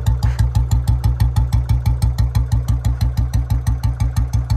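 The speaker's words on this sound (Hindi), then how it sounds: "पहले तो इसकी नॉर्मल साउंड सुन लो आप, जो इस बुलेट की नॉर्मल साउंड है" A 2024 Royal Enfield Bullet standard BS7 motorcycle idles on its stock exhaust, close up, with a steady, even thumping beat throughout and no voices.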